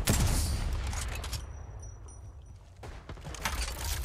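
Video game gunfire: loud bursts of shots crowd the opening second and return near the end, with a quieter stretch in between.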